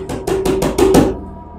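A voice imitates knocking on a glass window: about six quick, evenly spaced taps, close and fairly loud, with no other sound around them.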